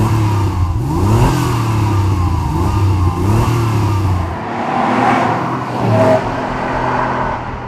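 A Porsche 964 with an air-cooled 3.6-litre single-turbocharged engine making 385 horsepower revs hard on a track, loud and close, its pitch sweeping up and down through several rising pulls before easing off, with no talk over it.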